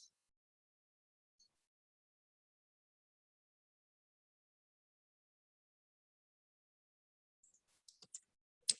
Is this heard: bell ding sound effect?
no